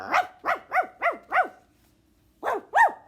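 Dog barking, a voice imitating it: six loud, close barks in a fast run, a short pause, then two more, with no other sound around them.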